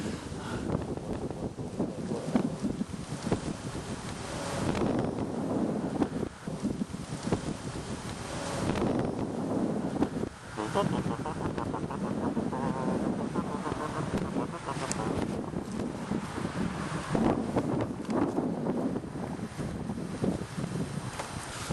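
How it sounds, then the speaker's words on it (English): Strong outdoor wind buffets the microphone in continuous roaring gusts, loud and steady for the whole stretch, with no voices. "going to try to wait out the wind every time a gust comes up"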